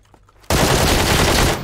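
Gunfire in the video game PUBG, a sudden loud sustained burst of shots kicking in after a quiet moment and running for about a second.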